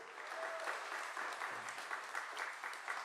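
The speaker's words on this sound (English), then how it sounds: "Can we please give our families a round of applause, everybody?" An audience at an Army 250th breakfast reception claps for military families, a soft, distant, even patter of many hands with no talking.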